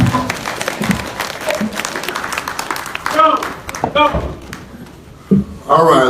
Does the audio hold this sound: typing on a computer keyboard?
no